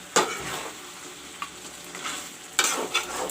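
Half-cooked chicken curry stirred with added water in a pan, giving soft intermittent scraping and wet stirring strokes over a faint sizzle, with clearer strokes near the start and end.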